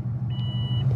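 A boosted project car's engine idles with a steady low rumble close by, with a faint high whine running through the middle and no voices.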